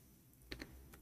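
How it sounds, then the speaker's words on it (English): A few quick keystrokes on a computer keyboard, typing in Arabic, with three or four soft clicks close by in a quiet room. "I'm typing in Arabic, hold on."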